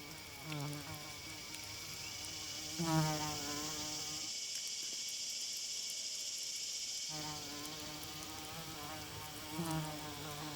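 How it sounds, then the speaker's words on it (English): Male orchid bees buzzing in flight around orchids in a tropical setting, a steady insect drone with shifting pitch as several bees pass nearby, the hum briefly dropping away in the middle before returning. "Orchid bees. These bees are all males. They flock to certain orchid species in large numbers."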